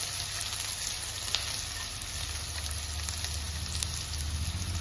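Chopped onion and green chillies fry in a pan with a continuous close sizzle, small crackles and pops scattered through it over a low background hum.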